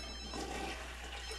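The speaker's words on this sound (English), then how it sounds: "I don't want no toilet flushing while I'm sitting on it" A toilet flushing in The Sims 3, a soft, steady watery rush filling the short moment at low volume, with no talking over it.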